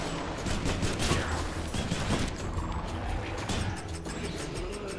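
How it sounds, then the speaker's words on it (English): Rapid gunfire in the video game Hades, a dense, continuous rattle of shots over busy game effects, fairly loud and steady throughout with no voices. "Luckily, a little gun action will help us."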